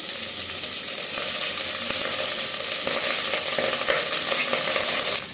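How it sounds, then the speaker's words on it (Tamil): Cooled basmati rice tossed into a hot pan for potato rice, making a continuous bright frying hiss with scattered scraping ticks of a spatula stirring, steady and close with no voices. "ஆற வச்ச பாஸ்மதி ரைஸை போட்டுக்கலாம்"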